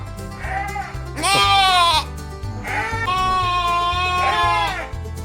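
Texel and Merino sheep on a farm bleat loudly and close by, several long wavering calls overlapping one another across a few seconds, with other flock noise underneath.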